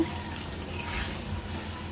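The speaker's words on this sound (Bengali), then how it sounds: "এখন ঝোলের পানি দিয়ে দিব।" Water pours into a pan of fish curry to make gravy, a soft steady splashing trickle, quiet and close, with no voice.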